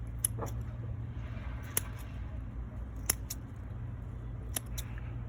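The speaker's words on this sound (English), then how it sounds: "Harvesting the plants with special harvesting scissors." Sharp snips of scissors cutting plant stems, about five crisp clicks spaced a second or so apart over a steady low background hum.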